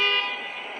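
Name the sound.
Waymo self-driving cars honking at night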